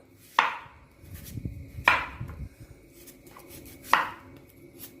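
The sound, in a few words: chopping banana stem with a knife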